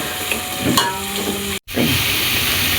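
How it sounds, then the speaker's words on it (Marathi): Mustard seeds crackling in hot oil on a slow gas flame while cooking Malvani jackfruit bhaji, a loud continuous frying hiss with scattered pops, close by, broken by a brief cut of silence midway. "मोहरी चांगली पटपटली म्हणजे आवाज येलो"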